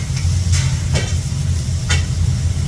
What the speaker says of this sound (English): As soon as the sound of the steam is gone, you're gonna hear a lot of crackling sounds.